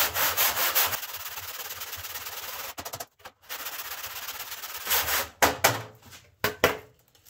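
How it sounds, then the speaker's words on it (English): Close, vigorous scrubbing of beehive wax foundation frames to clean them, a harsh abrasive rasping in rapid bursts with brief pauses between strokes. "So I'm taking this and I'm scrubbing the heck out of them."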